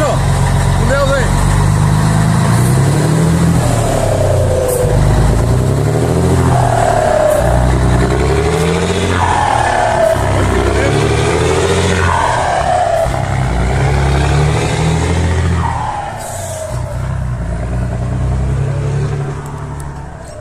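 A diesel truck fitted with a 10-inch exhaust tip and air suspension runs with a loud, deep engine rumble that swells in a few revs throughout, while someone talks over it.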